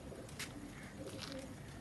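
A village pigeon gives soft low coos against a faint, noisy outdoor background, heard quietly over less than two seconds.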